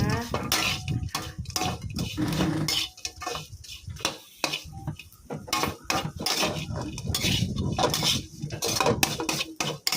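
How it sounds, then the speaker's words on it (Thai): Crispy pork tossed with chili and salt in a pan, metal utensils scraping and clattering against the pan in a steady, busy rhythm throughout, close and fairly loud, with a voice faintly underneath. "ใส่หมูกรอบที่เราหั่นไว้ลงไปเลยค่ะ"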